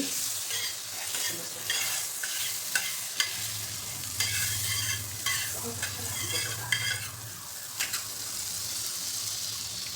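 Food sizzles and crackles on a hot griddle as dabeli is toasted in butter, with scraping and stirring sounds and a low hum beneath, close and continuous.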